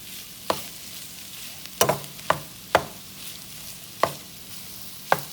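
Ground turkey fries at the bottom of a pot of keto soup. A low background sizzle is punctuated by six distinct, sharp spoon scrapes against the pot, spaced irregularly, with no voices.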